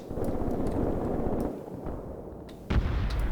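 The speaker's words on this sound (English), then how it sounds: "That's not artillery. That's mortar fire." Mortar fire in the war game Graviteam: a dense rumble of booming impacts rolls on, then eases off before a sharp, loud blast near the end.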